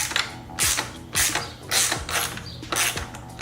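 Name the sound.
wrench screwing motorcycle frame slider bolt on with 17mm socket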